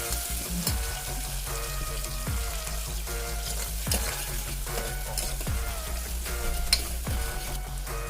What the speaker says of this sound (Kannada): ಈರುಳ್ಳಿ ಚೆನ್ನಾಗಿ ಫ್ರೈ ಮಾಡಬೇಕು.